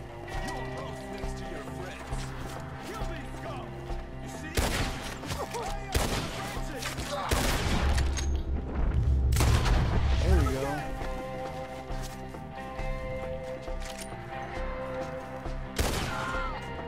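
Bursts of gunfire crack out through a Red Dead Redemption 2 shootout, sharp shots spaced irregularly over game music, with loud clusters in the middle and voices shouting between them.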